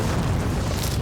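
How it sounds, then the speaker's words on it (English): A dense, continuous roar of explosions from a battle scene in a musketeer-era TV drama, a loud rumbling blast filling the short moment with no pause. "Oh, some more beautiful explosions."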